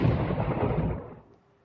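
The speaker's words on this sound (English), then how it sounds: "Now you see I have applied that thunder effect." Thunder sound effect added in an Android video editing app: a heavy, deep rolling rumble that fills the first second and then fades away to near silence.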